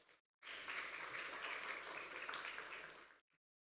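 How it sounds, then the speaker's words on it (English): Audience applause greets CEO Dr. Leila Fourie as she walks onto the stage at a Premier Group listing event, a steady wash of clapping lasting about three seconds before stopping abruptly into silence. "let's give a round of applause to welcome Leila onto the stage"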